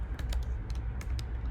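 Rapid keystrokes on a computer keyboard while HTML code is typed, a steady run of close, crisp clicks with no talking.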